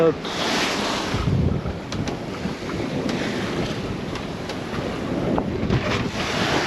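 Strong wind gusts at sea, 18 to 22 knots, roar continuously across a sailboat with crashing waves and surf, loud and close, buffeting the microphone throughout.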